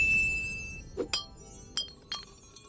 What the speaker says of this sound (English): The entire time the bottle was bouncing around, all the dust should have spilled out